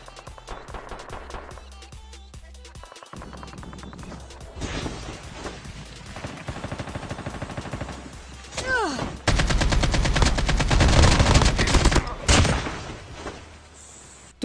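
Gunshots in a battle royale video game: scattered single shots and rapid automatic bursts, growing dense and loud in the latter half with crashing impacts, no talk over them.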